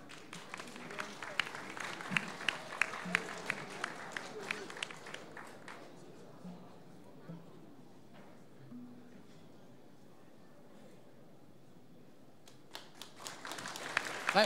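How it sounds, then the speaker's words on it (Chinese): Audience applause at an award presentation after a Myanmar versus Taiwan match, a burst of scattered clapping that fades to near quiet midway, with faint voices, then a few claps returning at the end. "来，我们来宾掌声鼓励哈。"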